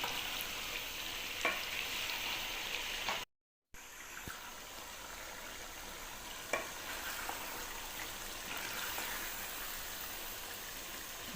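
A spoon stirs aloo gobi, potatoes and cauliflower, in a cooking pot over a steady low sizzle, with a few soft scrapes and taps against the pot and no talking.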